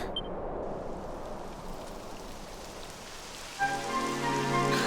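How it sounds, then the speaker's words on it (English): Steady rain patters in the Dragon Quest XI S game, a soft continuous hiss of drops on the ground, joined near the end by a bright musical tone layer. "It would have to go and start raining, wouldn't it?"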